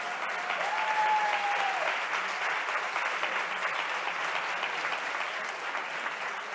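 Steady, dense applause from a large audience at a science communication congress plenary in Spain, sustained and even throughout, with a brief faint tone near the start.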